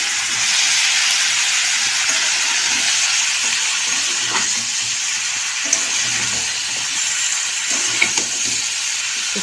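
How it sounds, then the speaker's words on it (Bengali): Onions frying in a pan for chicken kosha give off a steady, even sizzling hiss that holds at a constant level throughout, with a couple of faint clicks and no voices. "কিছুটা পেঁয়াজ ভাজা হয়েছে, আর একটু হবে।"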